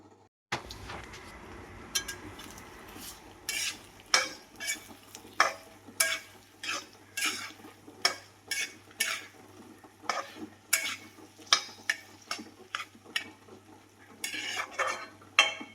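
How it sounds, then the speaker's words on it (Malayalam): Chillies, curry leaves, shallots, garlic and coconut fry in coconut oil for a roasted crab curry, under a low sizzle punctuated by a long run of sharp, rhythmic spatula scrapes against the pan, close and clear, with no talking. "ഒരു മുറി തേങ്ങ വെളിച്ചെണ്ണയിൽ നല്ലതുപോലെ വറുത്തെടുക്കണം കേട്ടോ"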